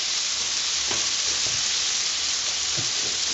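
A stick of butter melts in a pan for a white sauce, giving a steady, bright sizzle that fills the clip, with a few soft utensil taps against the pan.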